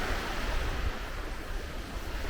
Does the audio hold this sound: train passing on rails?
no